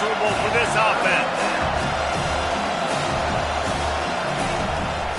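A stadium crowd at a college football game keeps up a constant loud roar, with a commentator's voice running over it throughout.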